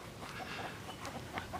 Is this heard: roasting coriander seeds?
no